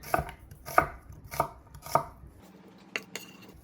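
A knife chops onion on a cutting board in four sharp, evenly spaced strikes, followed by a couple of softer knocks, close and clear with no talking.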